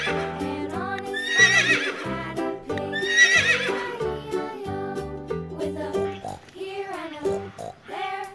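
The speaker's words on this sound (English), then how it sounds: "Orange and black color horse." A horse lets out a loud, whinnying neigh twice in a row, long shaky cries rising and falling close up, followed by softer snorting calls.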